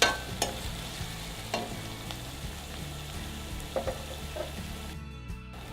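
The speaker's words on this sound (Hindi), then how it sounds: "अब इसमें मैं चॉप ऑनियन डाल दूंगा और इसे थोड़ा सा स्टेयर करें" Chopped onions frying in a pan for a chicken with sesame dish, a steady low sizzle with occasional scraping clinks of a spoon stirring, close and fairly quiet, no voices.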